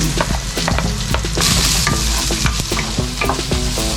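Carrot and onions are stir-fried with browned meat and fish cake for pancit, a dense constant sizzle broken by repeated clanks and scrapes of a utensil against the pan, close up with no talking.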